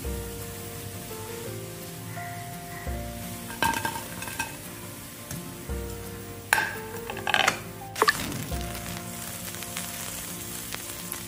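Cauliflower pieces for Gobi 65 deep-frying in hot oil, a steady close sizzle with bursts of louder crackle and stirring clatter as more pieces drop in.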